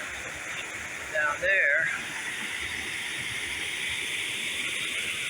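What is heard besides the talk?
waterfall at a tropical garden in Sogod, Cebu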